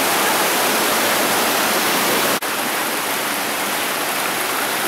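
Peguche Falls in Ecuador cascading down, a constant loud, close roar of rushing water that holds steady throughout apart from one momentary dip.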